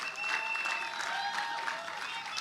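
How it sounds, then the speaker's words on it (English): Audience applause welcoming a coach on stage at a 2024 summit event in the Philippines, a steady wash of many hands clapping throughout, fairly distant and even, with faint tonal hum underneath. "Can we, with a round of applause, make welcome Coach Etima?"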